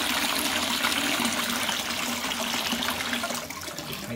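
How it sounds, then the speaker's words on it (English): Water runs steadily into a toilet being filled to overflow level in a house with strong water pressure, a loud continuous rushing and splashing that eases slightly near the end. "I always like to just fill everything up to overflow level, just to make sure the waste length is alright"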